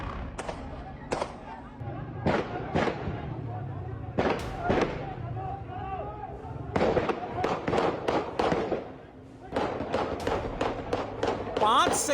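Rifle gunfire at a protest in Pakistan-occupied Kashmir, more than ten rounds in five seconds, rings out as sharp irregular cracks and bursts across the clip, with some voices in the background.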